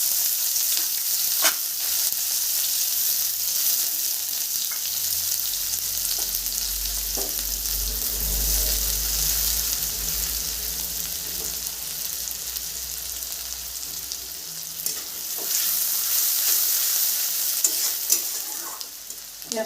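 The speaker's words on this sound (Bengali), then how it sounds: "পেঁয়াজটা একটু ভেজে নিয়েছি।" Chopped onion frying in hot oil with a constant loud sizzle and occasional stirring scrapes, steady throughout with no talk.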